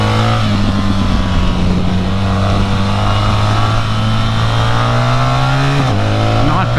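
A 2024 BMW R 1300 GS motorcycle engine pulls at low speed during a throttle tip-in test, its steady loud drone rising slightly in pitch, with a brief throttle change near the end; continuous and close.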